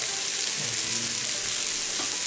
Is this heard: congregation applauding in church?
no